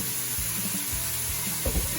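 Curry paste with onions or shallots sizzles and fries steadily in a pan for a Thai-style monkfish curry, a loud continuous hiss with occasional stirring scrapes.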